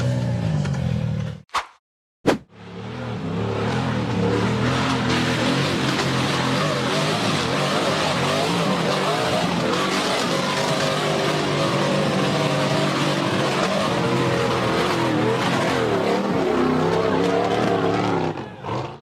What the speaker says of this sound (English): The buggy charged up the steep rocky slope